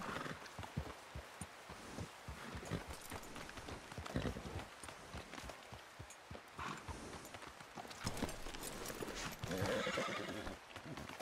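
Hooves clip-clop steadily along while a horse whinnies, close and clear, in Red Dead Redemption 2, with quieter speech now and then.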